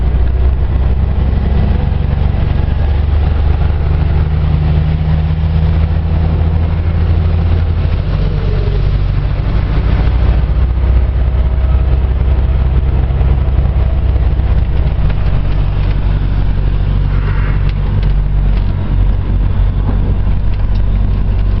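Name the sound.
lorry driving on a twisty road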